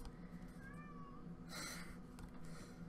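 A male cat meows indoors, a rising-falling call near the middle followed by a louder, brighter meow, heard close and alone over steady room hum.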